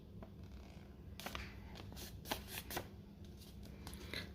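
Paper crinkles and creases as a paper airplane is folded, soft close rustles and a few sharper crisp presses against a quiet room hum, no voices.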